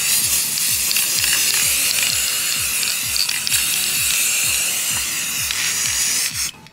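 Spray can hissing during a DIY Louis Vuitton-style wall decor project, a loud continuous spray through most of the stretch with repeated clicking, ratchet-like mechanical ticks underneath, cutting off abruptly at the end.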